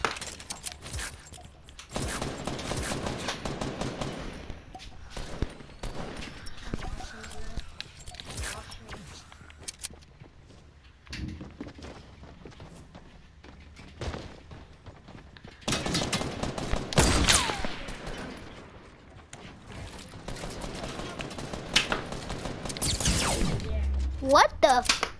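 Rapid bursts of gunfire from a Fortnite match, with loud dense volleys and sniper shots, crackling clusters separated by quieter stretches, with a voice talking over parts of it.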